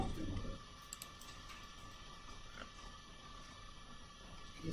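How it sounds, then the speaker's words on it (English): Clicky computer keyboard typing at a desk during a live calculus lesson, heard as faint, quiet scattered clicks over a low room hum, with a soft voice briefly at the edges. "Keyboard is really clicky."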